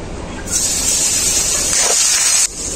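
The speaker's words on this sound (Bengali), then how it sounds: "ওই মাছ ভাজা তেলের মধ্যেই দিয়ে দেবো কেটে রাখা পেঁয়াজ" Chopped onion hits oil left over from frying pangas fish, bursting into a loud, sudden hiss that holds steady for about two seconds, then cuts off sharply.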